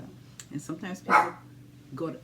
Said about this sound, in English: oh, excuse me, that's my dog.